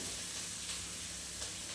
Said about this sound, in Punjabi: ਇਹ ਤੜਕਾ ਆਪਾਂ ਲਾਇਆ ਜੀ ਸਰੋਂ ਦੇ ਤੇਲ 'ਚ